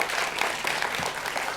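A brief burst of audience applause at a talk, dense clapping from many hands filling the room evenly, fairly loud and with no voices over it.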